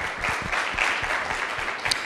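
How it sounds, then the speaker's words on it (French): Audience applauding at the Radio Vacances finale, a Burundian youth culture event in Gitega: steady dense clapping from a crowd, fairly loud and continuous throughout, with no one speaking over it. "On applaudit encore."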